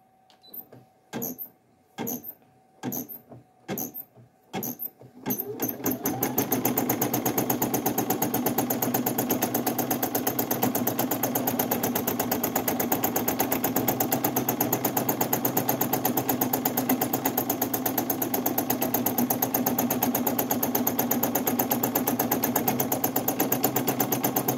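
A single needle embroidery machine with a 5x12 inch repositionable hoop stitches steadily, a few separate start-up thumps giving way to a loud, continuous rapid clatter that runs on without talk.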